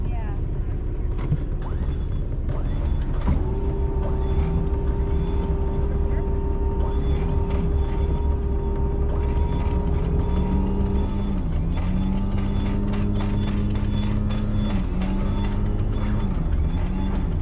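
A boat's anchor windlass hauls in the anchor chain with a steady mechanical grinding and ratcheting. It is close and continuous, and its motor tone shifts pitch partway through.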